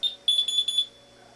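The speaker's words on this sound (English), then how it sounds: "It will beep at you to confirm that it received the entry." Alarm system keypad giving a short series of high, clear electronic beeps to confirm a programming entry, one quick beep then a rapid run of several close together, near and alone.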